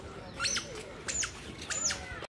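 Birds in a zoo aviary at an urban forest zoo in Surat, India, giving three sharp, shrill squawks at regular intervals, fairly close, over a steady outdoor background.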